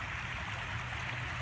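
Floodwater pours steadily past a line of sandbags into a park during a December flood, a continuous close rushing, gurgling flow with no break across the moment.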